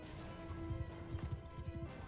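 Horse hooves in Mount & Blade II Bannerlord, modded World Conquest: a quiet, steady clip-clop of hoofbeats at a trot, faint under a low sustained musical drone.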